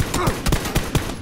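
Gunfire in the video game PUBG, a rapid burst of about five sharp shots in quick succession, fairly close and loud over steady background noise.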